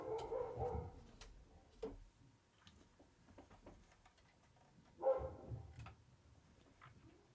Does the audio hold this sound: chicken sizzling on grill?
no